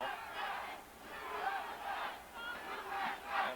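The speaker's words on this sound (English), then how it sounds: "listen to the crowd chanting" A stadium crowd at a 1991 USA versus Chinese Taipei women's soccer match chants in rhythmic waves that swell and fade several times. The chanting comes from a distance and is fairly loud overall.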